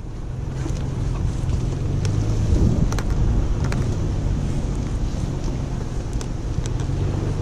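Toyota TRD Off-Road truck (4Runner, Tundra or Tacoma) creeping along on crawl control, a steady low engine and drivetrain drone with wind buffeting and a few faint clicks throughout, no talking.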